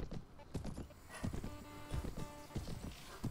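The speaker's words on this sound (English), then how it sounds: "the horse isn't lamed, it's just going up a hill." Horse hooves clip-clop at a walk up a hill in the medieval video game Mount & Blade Warband, a steady close rhythm of hollow thuds with a brief whinny and a faint voice under it.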